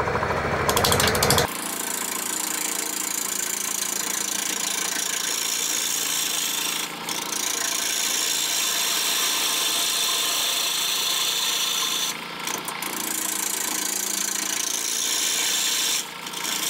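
Wood lathe spinning a banyan wood vase at 800 RPM, a steady high whirring hum with rough rubbing texture, continuous and close, with a few brief dips as the tool comes off the wood.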